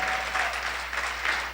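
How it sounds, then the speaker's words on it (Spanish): A church congregation applauds the worship band, a full, even burst of clapping filling the room with a few louder swells. "démosle un aplauso al grupo de alabanza"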